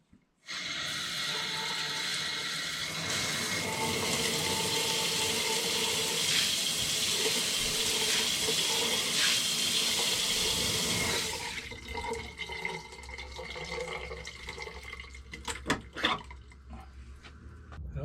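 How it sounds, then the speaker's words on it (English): A newly installed shower head sprays water in a full, hissing rush close by for about eleven seconds, then shuts off, leaving drips, trickles and handling clatter. "So now we're going to try the shower head."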